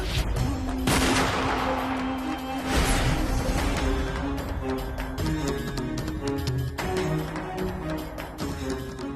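Loud bursts of gunfire crack out amid a dense, dramatic wash of music and effects in a Hindi TV drama scene.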